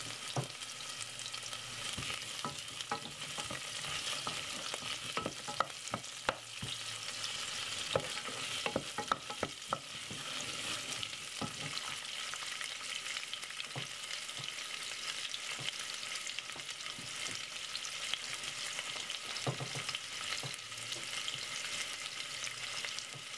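Red onion fries in a pan for a vegetable stir-fry, giving a steady, even sizzle throughout with occasional light stirring scrapes, close by and with no talking.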